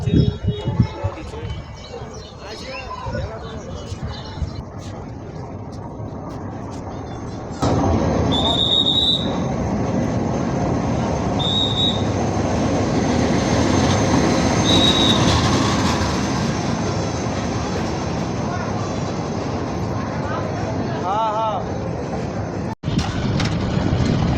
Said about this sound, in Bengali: আমার ট্রেন চলে আসছে